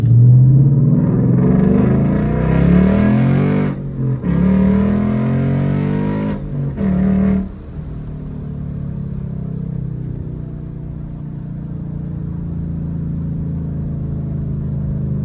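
A manual-transmission Ford Mustang GT engine revs loudly through several downshifts, throaty blips rising and falling over about eight seconds before settling into a steady low idle rumble.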